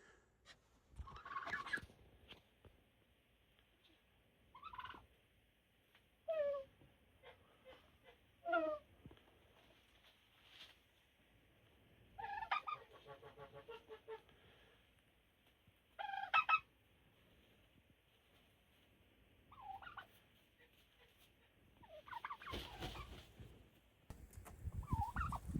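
Turkeys shut in a snowed-in farm coop gobble in scattered bursts, some sharp and rattling, others drawn out, with long quiet gaps between them. The calls sound fairly close in the quiet space.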